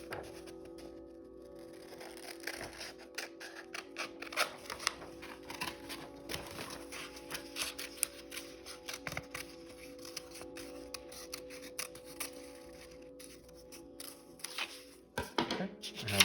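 Scissors cutting a circle out of yellow paper, a long run of small crisp snips and rustles close by, steady and quiet with brief pauses as the paper is turned.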